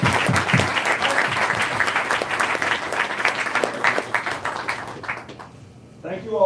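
A crowd at a campaign event on disability policy gives sustained, dense applause that gradually thins out, and a voice begins speaking just as it fades.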